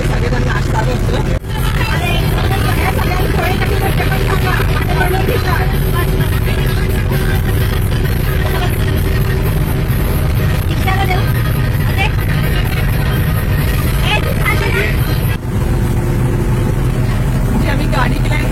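A 17-seater passenger van rolling along a road between Pune and Lonavala, with a steady loud engine and road rumble throughout and people talking inside.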